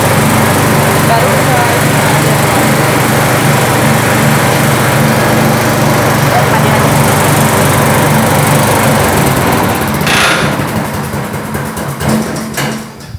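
A cassava processing machine in a mocaf factory runs with a loud, steady engine drone and dense mechanical rattle throughout, easing slightly near the end.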